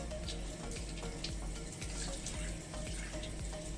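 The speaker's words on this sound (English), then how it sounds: "You want to use warm to lukewarm water to rinse it off and help the mask to kind of flake off itself" Warm to lukewarm water runs steadily from a bathroom tap while a clay mask is rinsed off the face, a continuous close splashing hiss with small irregular spatters and no talking.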